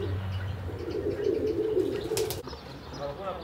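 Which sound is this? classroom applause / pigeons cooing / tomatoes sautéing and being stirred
pigeons cooing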